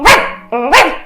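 A dog gives two sharp, loud barks close by, separated by a short pause with a brief tonal whine between them, and no other sounds.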